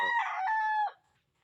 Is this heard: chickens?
yes